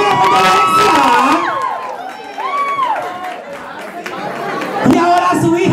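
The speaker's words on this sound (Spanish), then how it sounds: "Give it up, people, give it up." Crowd at a Latin night event at a polo club whoops, cheers and shouts loudly, with excited high-pitched calls and voices rising and falling over a noisy, bustling background.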